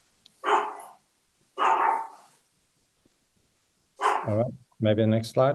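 A dog barks in short bursts in a room during an online meeting, loud and close with pauses between barks. Someone speaks briefly near the end, overlapping the last barks.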